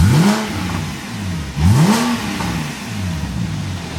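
Porsche Cayman S with an Armytrix valved exhaust, valves closed, blipped hard twice: two sharp rising revs that peak and drop back to idle, close and loud with mechanical clatter between them.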